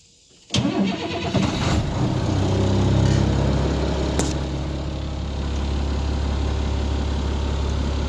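A school bus being converted into a skoolie, with about 75,000 miles on it, has its engine cranked and started. It catches with a loud burst and then settles into a steady, deep, close idle that rumbles on alone.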